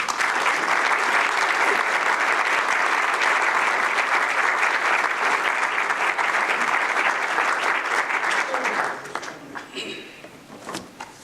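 Sustained audience applause welcoming Father J. Bryan Hehir to a lecture at John Carroll University, loud and steady for about nine seconds, then thinning out into scattered claps.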